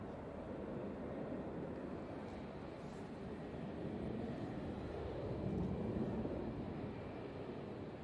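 A Qatar Airways plane passes overhead at Manchester Airport, a broad, steady jet roar that holds level for several seconds and swells slightly toward the end, heard from the ground with faint wind noise.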